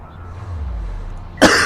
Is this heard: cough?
yes